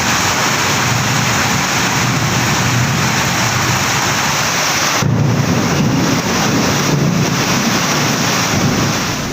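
Heavy rain driven by strong wind sweeps over the Kodaikanal hills in Dindigul district, making a loud, steady broadband roar that runs unbroken throughout with no voices.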